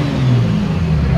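A car with a Toyota 2JZ engine, built for drifting, revs steadily up close, its low engine drone loud and continuous with talk faintly underneath.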